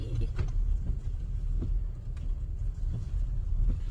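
A car rumbling close by in a parking area, a continuous low, uneven engine drone with slight surges, alone without voices.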